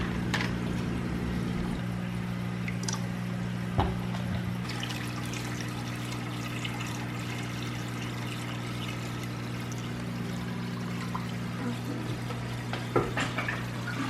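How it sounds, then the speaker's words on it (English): Water is poured from a bucket into a goldfish tank, giving a soft, continuous trickling splash over a steady low mechanical hum. A couple of small knocks break in, and no one speaks. "I just fill up a few bucketfuls and then I prime it and we'll just put it in her tank"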